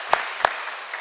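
Brief applause from a church congregation during a Sunday worship service, a short burst of clapping with two sharp claps standing out, fading quickly.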